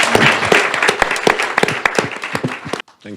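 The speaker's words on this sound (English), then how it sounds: "A round of applause for Ellen." Audience at a symposium applauds a panelist, a fairly close round of distinct, rhythmic claps mixed with general clapping that stops abruptly near the end.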